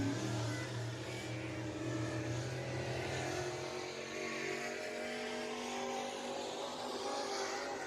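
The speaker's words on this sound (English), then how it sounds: "he is fast in that 9 car as he takes the green, working lap number 1" Race car, the No. 9, taking the green flag for lap one at Deep South Speedway, its engine droning steadily at a distance with a continuous low roar and no voices.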